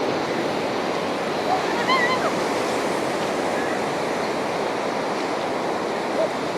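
Cold sea waves break and wash onto a beach in a steady, loud roar of surf with wind noise across the microphone, heard near and without a pause.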